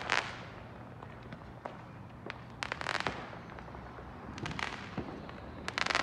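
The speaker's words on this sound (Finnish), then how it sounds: "Isoimmat raketit meni justiinsa, mutta jatkuu vielä edelleen täällä." Fireworks and rockets go off on Christmas in the United States, scattered sharp bangs and crackling pops at varying distances over a low background rumble, some clustered in quick bursts.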